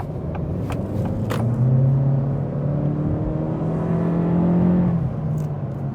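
Acura Integra with a CVT accelerating, a steady droning engine whir that rises and holds its pitch while building speed, heard from inside the car with faint road rumble.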